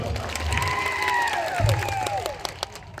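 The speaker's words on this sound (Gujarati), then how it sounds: "પોલીસ માટે એકવાર જોરદાર તાળીઓ પાડી લો" A crowd at an outdoor political gathering claps and cheers for the police, a dense wash of applause mixed with a shouted voice and a loud thump, heard fairly close.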